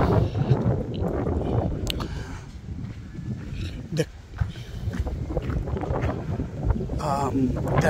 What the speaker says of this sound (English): Wow, what a nice breeze.